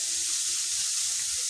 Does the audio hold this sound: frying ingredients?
yes